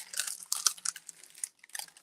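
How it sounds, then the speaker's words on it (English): Quick crisp snips and crinkles of scissors cutting through thin plastic at a craft table, a short run of close, light cuts with a brief pause near the end. "I just grab some scissors and cut away"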